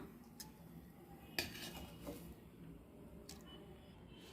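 A spoon mixes tempered chillies and onions into curd in a bowl, giving a few faint, scattered clinks against the dish over a quiet background.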